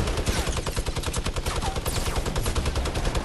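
Rapid video game gunfire from a Fortnite match, dense bursts of shots repeating steadily and loudly throughout with no speech.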